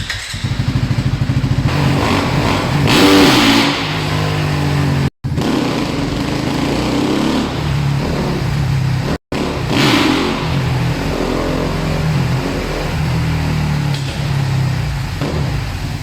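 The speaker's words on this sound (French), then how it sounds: "Écoute le son d'un bruit de relâchement de clutch." A motorcycle engine revs hard through a late clutch release for a wheelie and bangs against the rev limiter, loud and close with sustained roaring and brief cut-outs, no talking.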